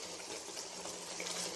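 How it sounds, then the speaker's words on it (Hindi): Water sloshes and swirls inside a jug as leftover masala for a fish salan is rinsed out, a steady, close rushing wash with no voices. "इस जग में हमने थोड़ा सा पानी डाला और इस तरह इसको अच्छे से साफ़ करना"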